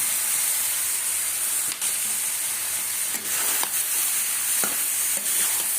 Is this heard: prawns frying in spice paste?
yes